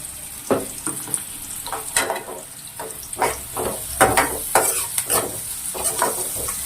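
Chopped onions sizzle in hot oil in a pan for a gongura mutton curry, with repeated scraping strokes as they are stirred, close and steady.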